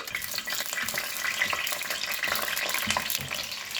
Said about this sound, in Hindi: 2 मिनट के लिए हम परवल को फ्राई करेंगे।